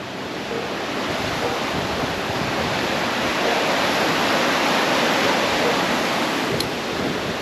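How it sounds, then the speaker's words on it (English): Rushing water of a stream and waterfall in Jamaica pours in a steady, loud broadband roar, close and unbroken for the whole stretch, with no voices. "That's pretty much the, I would say, where the middle of the stream slash river slash waterfall is."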